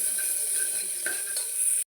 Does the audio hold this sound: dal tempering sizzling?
yes